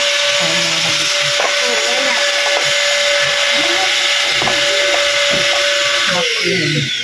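A vacuum cleaner runs in a home, a loud, steady whining drone with a constant pitch that continues throughout, with voices talking over it.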